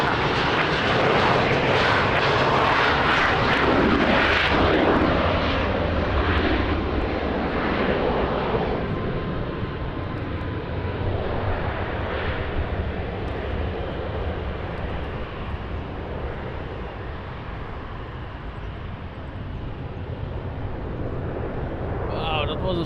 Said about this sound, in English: Wow, that was a short takeoff.